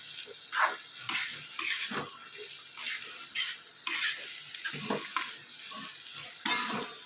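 Soaked poha is being stirred with masala in a pan, with repeated scraping spatula strokes and light clatter in an irregular rhythm, close and moderate.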